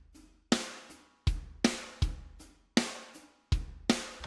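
A drum groove programmed in a DAW, kick and snare hits landing in a steady, tight pattern with sharp attacks and quick decays, loud and close, no voices.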